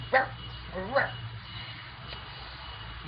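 A dog gives two short yelping barks near the start, then goes quiet against a low background hum.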